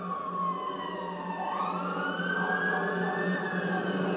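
Police and ambulance sirens in the video game Call of Duty: Modern Warfare wail and sweep in pitch together, fairly close and steady, with a low vehicle rumble underneath.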